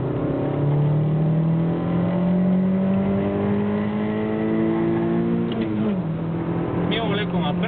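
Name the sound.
race cars accelerating off the line in a drag race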